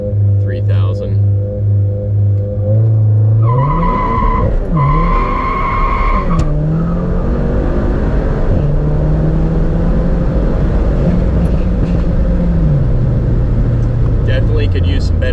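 Stage 2 VW MK7 GTI launching from about 3,000 RPM and accelerating hard to 60 mph, its engine rising through gear changes with tire chirp and road noise, filling the whole clip loud and close.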